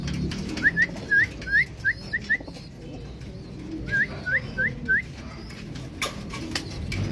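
Young racing pigeons arrive at the loft during a club training flight, giving short rising chirps in two quick bursts over a low outdoor rumble.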